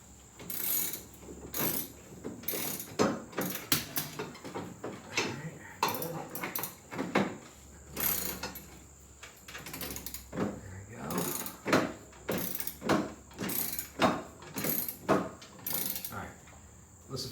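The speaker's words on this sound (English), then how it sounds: "Listen for that click." A torque wrench clicks repeatedly while tightening the blade bolt on a John Deere LA105 lawn mower to 65 foot-pounds, giving a series of close, sharp ratcheting clicks in an irregular rhythm.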